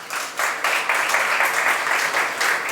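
An audience at a Jain religious discourse in Jaipur, Rajasthan, breaks into dense, steady applause, many hands clapping together loudly and evenly throughout, with no voices over it.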